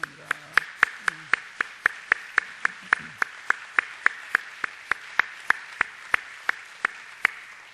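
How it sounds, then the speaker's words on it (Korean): Church congregation clapping to welcome a visiting pastor and his wife, a slow, regular beat of sharp claps in unison, with a voice speaking briefly at the start. "우리 박수 한번 뜨겁게 한번 환영하겠습니다"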